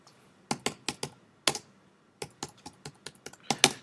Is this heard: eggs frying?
no